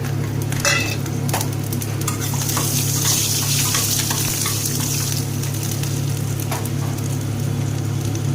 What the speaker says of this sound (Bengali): তেলের মধ্যেই দিয়ে দেব রসুন।